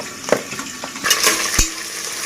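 A large onion and five green chilies fry loudly in a pan. A bright, hissing sizzle runs under several quick stirring scrapes and a utensil knock, all close and prominent.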